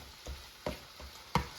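Angus beef sizzles softly in a pan with vegetables while a utensil scrapes and taps a few times, close by and fairly quiet.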